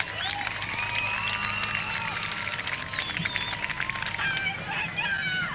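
Speedway grandstand crowd at a night of Super Sedan championship racing, applauding and cheering at a moderate distance with a steady wash of clapping and scattered whistles and shouts, voices murmuring throughout.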